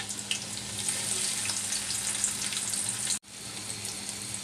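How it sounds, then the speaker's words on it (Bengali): Chopped garlic and onion frying in hot oil for a ripe sweet pumpkin bhaji, a steady, close sizzle with fine crackles throughout and one brief dropout near the end. "পরিমাণ মতো তেল গরম করে নিয়েছি দুই কুচ রসুন কুচি দিয়ে দিচ্ছি"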